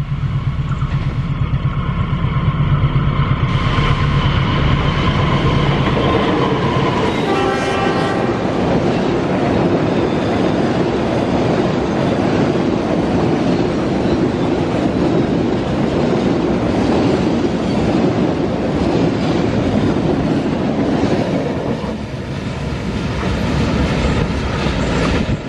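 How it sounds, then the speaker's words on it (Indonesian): A loaded cement freight train rolls past a level crossing at close range, its loud horn sounding early on, followed by a long continuous rumble and rhythmic clatter of wagons over the rails. "KA Semen sudah melintas"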